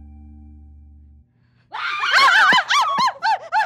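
Several women give loud, close, high-pitched screams in fright at a crow, breaking out after a quiet pause as overlapping wavering shrieks in short repeated bursts.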